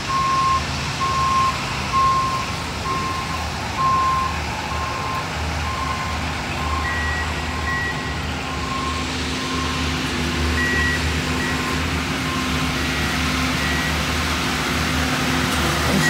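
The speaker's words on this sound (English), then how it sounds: "This is a high rail and box truck." A high-rail truck and a box truck in a railroad maintenance-of-way convoy roll past with engines rumbling, while a reversing beeper keeps pulsing steadily throughout and an air-conditioning-like hum sits underneath.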